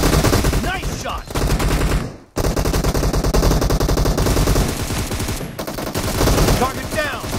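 Dense, rapid automatic gunfire in a video game, loud and nearly continuous bursts with a brief gap around the middle, machine-gun rattle dominating throughout.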